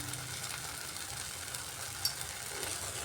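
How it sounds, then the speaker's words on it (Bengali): Spice paste seasoned with salt and Kashmiri red chilli powder sizzles steadily as it fries in a pan, a continuous even hiss with no talking. "সব কিছু দিয়ে মশলাটাকে এখন আমি কষাচ্ছি ভালো করে"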